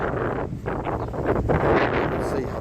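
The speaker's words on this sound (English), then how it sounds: "See how that wind's blowing right now," Chilly wind gusting outdoors along a flag-lined walkway at Myrtle Beach, a loud, close rushing buffet against the microphone, swelling and easing with no clear speech.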